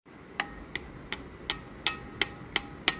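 A ceramic pottery hat fresh from the kiln is struck repeatedly, giving eight short, bright ringing clinks at roughly even intervals over a faint background hiss.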